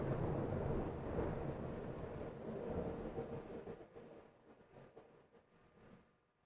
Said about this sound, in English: thunderstorm coming through